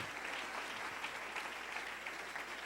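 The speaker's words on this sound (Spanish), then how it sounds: "Denle un aplauso al Rey en esta preciosa mañana." A church congregation applauds steadily at a Sunday morning service, a dense wash of many hands clapping at moderate distance for a few seconds with no voices above it.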